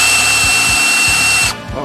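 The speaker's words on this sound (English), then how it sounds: "when you can't put enough pressure on it with a bigger drill bit, I guess you start smaller" Power drill boring into the front wheel hub bearing of a 2002 Ford F-350 4WD, a loud steady high whine with slight pulsing that cuts off abruptly near the end.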